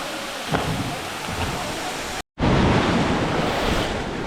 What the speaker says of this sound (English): I got a little bit taken out there by the waves. They are quite violent here.